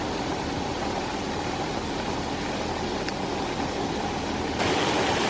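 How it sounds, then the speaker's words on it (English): Creek water pours steadily over a low-head dam beside a grid-tied micro hydro turbine, a dense, continuous rushing wash close by with no speech and a slight lift in level near the end. "there is just enough overflow currently coming over the dam"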